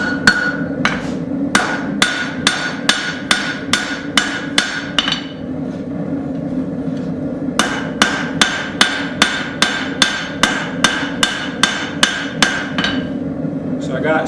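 Hammer blows ring out on a railroad spike being forged into a knife blade, steady bursts of evenly spaced metallic strikes, close and loud, with a pause midway before another rapid run of hits.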